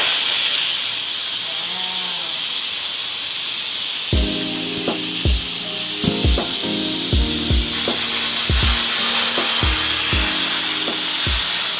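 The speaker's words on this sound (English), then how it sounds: "I'm literally gonna turn and stand back and turn the pressure valve from seal to vent." An Instant Pot's pressure valve turned from seal to vent releases a loud, continuous hiss of steam, with rhythmic rattling knocks joining partway through as the pressure escapes.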